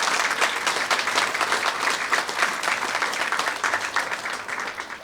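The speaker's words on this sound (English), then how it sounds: "let's give a big round of applause to PDS" An audience at a public library branch opening in Latonia, Kentucky breaks into sustained applause, a dense, steady wash of many hands clapping at moderate loudness with no talk over it.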